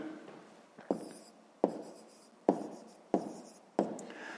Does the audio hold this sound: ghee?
no